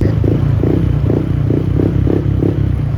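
A motorcycle with a modified air filter cover idles loudly up close, a steady, throbbing exhaust pulse with slight rhythmic surges as the throttle is worked.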